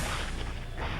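A Magnum handgun, a Desert Eagle type, fires in Resident Evil 2 with a single heavy, booming report. It sounds loud and dense and fills the short moment, with no talk over it.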